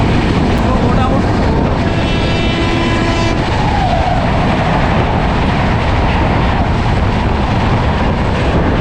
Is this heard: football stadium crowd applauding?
no